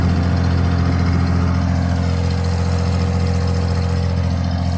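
A 1947 Plymouth six-cylinder engine idles steadily with a smooth, even exhaust burble, loud and close, holding a constant low rumble throughout with no talking.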